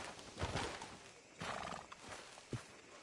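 In the video game Red Dead Redemption 2, a horse whinnies loudly and nearby hooves clip-clop on the ground over about three seconds, with no one talking.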